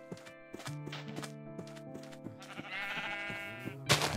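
Sheep bleat in Minecraft with the Feed the Beast Unleashed modpack, several wavering game bleats over steady repeating game tones, with a loud burst of noise near the end.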